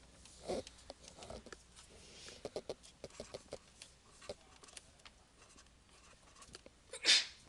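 A single sharp sneeze bursts out near the end in a math lecture classroom, following a stretch of quiet scattered taps and small rustling sounds.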